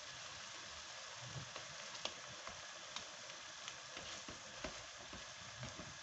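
Spring roll filling sizzles steadily in a hot pan, with occasional light scraping and ticking as it is stir-fried, close and fairly quiet.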